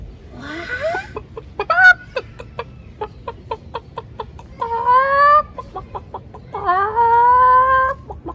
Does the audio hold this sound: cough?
no